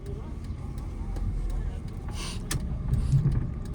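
A car turns slowly through a narrow lane in first gear with the clutch half engaged; a low, steady engine hum runs close inside the cabin, rising slightly toward the end, while an instructor speaks over it.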